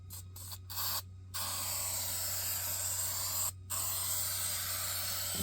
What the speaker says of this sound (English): make sure I'm spraying straight